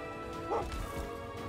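Donnerwolf, a thunder wolf monster in Monster Hunter Stories 2, gives a short dog-like bow-wow yip while being petted, one brief call over steady game music.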